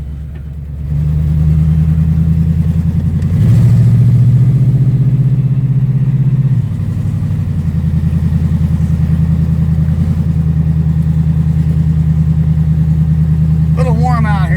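A 1973 vintage vehicle's engine drones steadily while driving on a warm day in Ohio, a low constant hum that swells briefly as revs rise, then settles, with voices talking over it.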